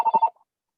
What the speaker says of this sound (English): Somebody's ringing.